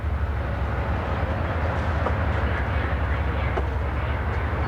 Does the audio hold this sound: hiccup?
no